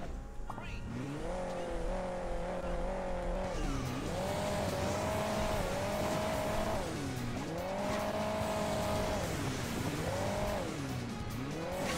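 Racing car in the mobile game Hill Climb Racing 2, its engine revving up and dropping back in repeated surges with tire squeal, loud and continuous.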